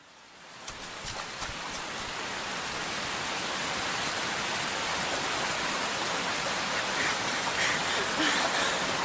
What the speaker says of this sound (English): Again, in the absolute pouring rain.